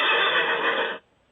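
A single horse whinny with a tremolo quality rings out loud and close for about a second, then breaks off abruptly into near silence.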